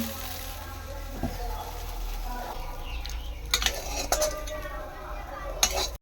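A cooking pot holding finished chorchori is lifted from a village stove, giving a few scattered metallic clinks and scrapes over steady low background noise, with a sharper clank near the end.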